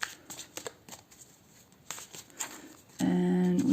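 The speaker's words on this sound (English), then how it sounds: "I'm just gonna give them another shuffle." A tarot card deck is shuffled by hand in a string of quick, crisp riffling bursts with pauses between them, close and clear, before a louder steady sound takes over near the end.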